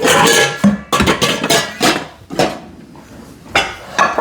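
Clattering of metal and glass bowls and utensils as another mixing bowl is pulled out in a home kitchen while making pecan pie gooey butter cake, a series of loud, close clanks and knocks with short pauses between.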